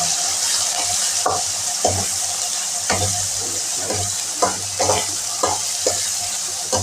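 Onions frying and sizzling in a pan for palak paneer, a steady hiss with intermittent scraping stirs and clinks of a utensil, close and fairly loud.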